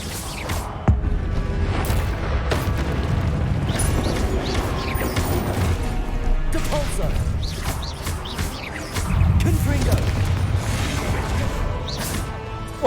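Confringo fire spell blasts in Hogwarts Legacy bring a dense stream of explosive impacts, crashes and whooshes in busy combat, loud and continuous with bursts of heavier booms.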